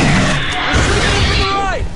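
Gunfire and heavy weapon blasts in the co-op shooter Aliens: Colonial Marines, dense and continuous, with a rising synthetic whine near the end, mixed with game voices and talk.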